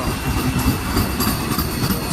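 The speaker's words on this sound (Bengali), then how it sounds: "রানাঘাট, বনগা, শিয়ালদা এসি লোকাল প্রথম দিনের আপ ট্রেন ঠাকুরনগর স্টেশনে ঢুকছে" An AC local train on the Ranaghat–Bangaon–Sealdah line pulls into Thakurnagar station on its first day of service, giving a steady, close rumble of wheels and carriages that rolls on throughout without any talk.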